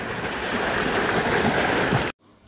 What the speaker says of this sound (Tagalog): malakas yung hampas ng alon